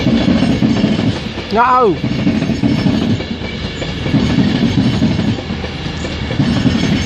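A train departing Crewe station for London rumbles steadily with clickety-clack wheel noise throughout, while a short, sharp squeal rises and falls near the middle and someone briefly shouts.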